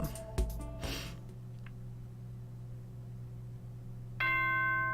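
Announcement chime from the Danganronpa Trigger Happy Havoc video game: a bright sustained tonal chime with steady harmonics that enters near the end, after a few sharp clanks and a low background hum.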